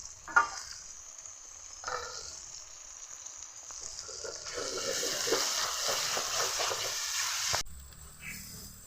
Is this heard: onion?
yes